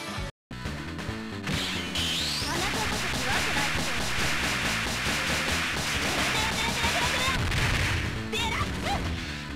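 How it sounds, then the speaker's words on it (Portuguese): Whip's special move in KOF XIV delivers a rapid flurry of sharp whip cracks and impact smashes, dense and loud over game sound effects, ending with a whooshing flourish. "enquanto ela bate com o chicote nele"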